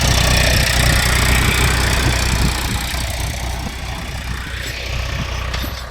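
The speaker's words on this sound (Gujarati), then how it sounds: "ટ્રેક્ટર એ આમાં કેટલી સ્પીડમાં આવે જો" A tractor drives through soft, chemical-free organic field soil, its engine chugging steadily and loud in the foreground, easing slightly toward the end, with no talking.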